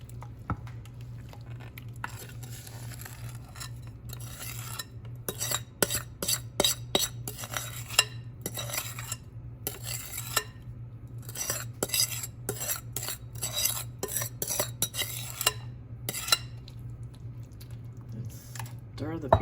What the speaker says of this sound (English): Stir the peaches around.